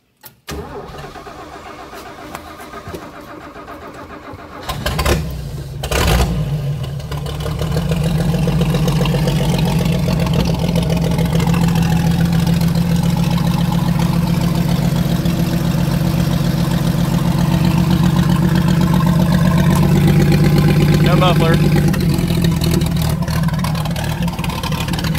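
A 1970 Toyota FJ40 Land Cruiser, its stuck-open secondary throttle butterfly just freed, cranks briefly, fires up and settles into a loud, steady rumbling idle close by, with no talk.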